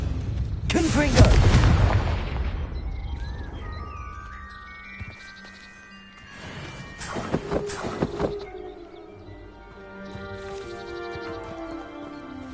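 Confringo blasting curses in Hogwarts Legacy go off with a big booming explosion early on and later sharp crackling bursts, mixed with ringing magical tones and softer game ambience between them.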